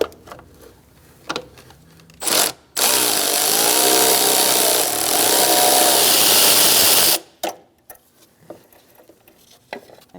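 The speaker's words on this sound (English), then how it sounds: "Using a 10mm socket, we're going to remove this nut so we can take the power steering reservoir" Steady loud mechanical whirring for about four seconds while a 10mm socket removes the nut on the power steering reservoir of a 2000-2006 Mini Cooper, framed by a few sharp knocks and clicks before and after.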